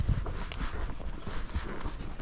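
A Tennessee Walking Horse walks with uneven clip-clopping hooves, a quick irregular series of dull thuds and knocks at close range, with no voices.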